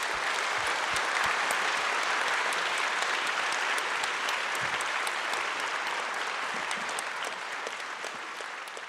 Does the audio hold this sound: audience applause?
yes